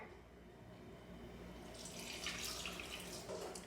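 Water runs from a kitchen tap into a container for a honey cinnamon syrup, a steady faint trickle that grows fuller and splashier partway through.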